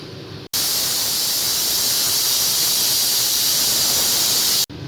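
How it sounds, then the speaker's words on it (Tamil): A pressure cooker cooking chickpea curry lets out a loud, sustained hissing whistle of escaping steam that holds steady for about four seconds before cutting off abruptly. "விசில் வரட்டும்."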